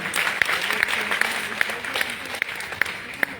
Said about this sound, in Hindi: मैं चाहूंगा अपने माता पिता के लिए जोरदार तालियां